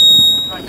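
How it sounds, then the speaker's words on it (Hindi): A flood warning alarm on a water-tank demonstration model sounds as a single shrill, steady electronic beep, loud and close, lasting under a second. "यहाँ देखिए अलार्म ऑन हो गया"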